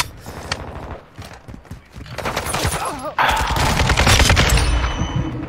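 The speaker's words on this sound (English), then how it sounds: "he's shooting me through the fucking wall" Gunfire in Call of Duty: Modern Warfare 2 multiplayer, with bursts of sharp shots, rapid rattling and busy in-game clatter, loud and close, swelling in the second half.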